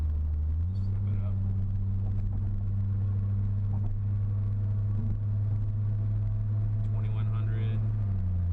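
A Ford Fusion Sport with its resonator deleted drones steadily under load at moderate revs, a strong continuous low exhaust tone that lifts slightly near the start and eases off at the end.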